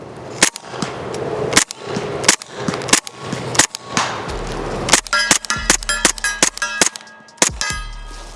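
Subsonic rounds fired from a P320 chassis: loud, sharp shots, first spaced single reports, then a fast string of rapid shots with metallic clanks between them, close by.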